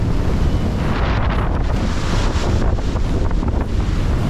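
Strong wind roars across the microphone aboard a small sailboat in a storm at sea, with waves crashing and rushing around the hull, loud and constant throughout.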